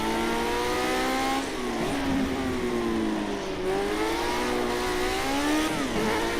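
A 1972 Lotus D-Type engine in Project CARS 2 at Fuji GP drones loudly and continuously, its pitch rising and dipping with throttle and gear changes as the car accelerates through wheel spin.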